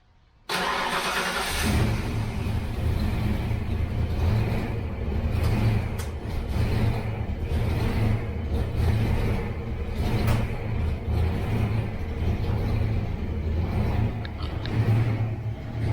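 A turbocharged Fox-body Ford Mustang engine cranks and catches after a brief quiet moment, then settles into a steady, loud idle with a low rumble that continues to the end.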